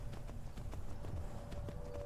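Horse hooves clip-clop in the video game Skyrim, a steady, quiet rhythm of hoofbeats that continues throughout over low background ambience.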